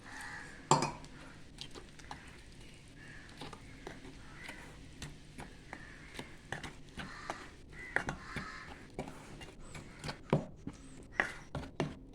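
Eggless cake batter being stirred while milk is added, with rhythmic clinks and scrapes of a spoon against a bowl, close and moderately loud, while crows caw in the background.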